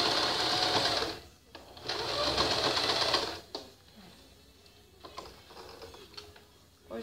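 Sewing machine stitching a fabric shirt for a dog, with two sustained bursts of rapid mechanical whirring followed by quieter handling clicks and pauses.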